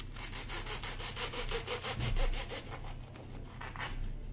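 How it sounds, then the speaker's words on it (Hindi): A crispy grilled cheese sandwich filled with kachumber salad being cut on a plate, giving a steady rhythmic crunching and scraping like sawing, fairly close and continuous for several seconds. "आवाज सुनिए कितना क्रिस्पी है ये"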